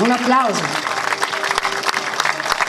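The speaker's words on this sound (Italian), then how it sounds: "Bene, un applauso." Audience applause at an award ceremony in Agrigento, a steady wash of clapping after a host's spoken line at the start, continuing loud and dense with no talk over it.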